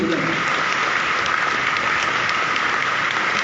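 A crowd at a Gujarati devotional discourse applauds to welcome devotees who pledged service, with dense, even clapping throughout.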